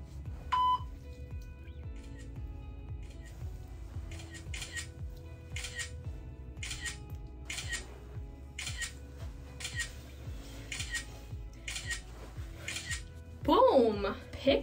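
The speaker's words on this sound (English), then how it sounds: "That's the timer." A camera self-timer set to one-second intervals beeps in a steady regular series of short bright tones, one after another, with a few quiet voices underneath and a louder burst near the end.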